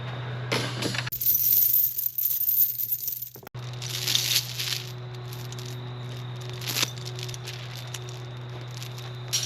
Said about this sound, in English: we're gonna take the chain and we're gonna wrap it around a hook that's on the hitch of the UTV